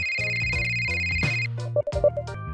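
Mobile phone ringtone playing a bright repeating melodic tone pattern, loud and close, then a few short chime-like notes near the end; no talking.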